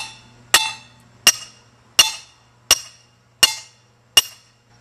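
Six sharp, evenly spaced hammer strikes drive a portable ground anchor into the ground, each a loud ringing metallic clank about every 0.7 seconds over a low steady hum, with no talk.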